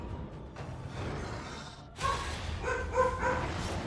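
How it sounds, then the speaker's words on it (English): Excited dog barking indoors, a few short sharp barks and yips in quick succession, moderately loud, heard alone without speech. "Sorry for the dog barking."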